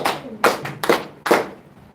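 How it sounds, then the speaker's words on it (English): Three loud, separate bursts of hand clapping, close and uneven, each fading quickly. "Give him a round of applause"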